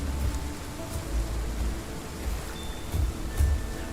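Steady rain falls in the Path of Titans dinosaur game, a dense broadband hiss with low rumbling swells and faint drop patter, loud and continuous throughout with no voices.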